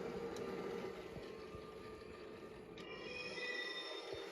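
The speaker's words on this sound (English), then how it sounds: "I'm gonna go ahead and test this train out" A motorized LEGO Crocodile locomotive whirs along steadily with faint clicking and rattling, quiet and close, running alone without voices.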